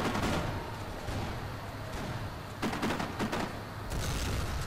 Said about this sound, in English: Whoa, that was a big explosion for no reason.